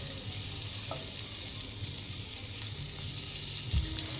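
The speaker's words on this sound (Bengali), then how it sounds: "এখন কড়া বসিয়ে কড়াতে সাদা তেল দেব আর তেলের মধ্যে এক টুকরো বাটার দিয়ে ভালো" A knob of butter melting into hot white oil in a wok, giving a soft, even sizzle that holds steady throughout, with a faint clink near the end.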